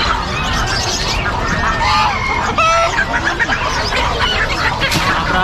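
A Brahma chicken at a Philippine poultry market crows and clucks close up amid other fowl, with overlapping calls, honks and squawks over busy background market noise.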